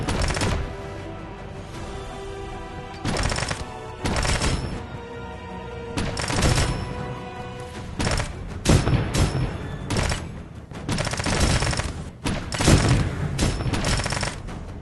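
Turrets in a video game level fire in repeated bursts of rapid gunshots, loud and close, with short pauses between volleys and no talking over them.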